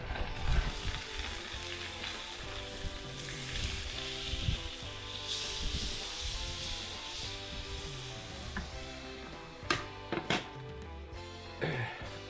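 Bacon sizzles steadily in a pan inside a campervan, a continuous crackling hiss with a few sharp clicks and clatters over a faint mechanical hum.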